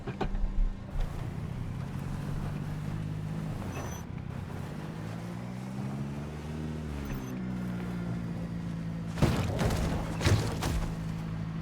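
A car driven in Project Zomboid, its engine holding a steady low drone that rises and falls in pitch as it revs, with a couple of louder thuds near the end and no talk over it.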